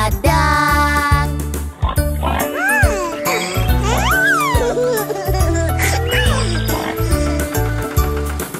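A sung voice imitates a pig's oinking in short repeated bursts over a loud, bouncy Indonesian-language children's song with steady backing music.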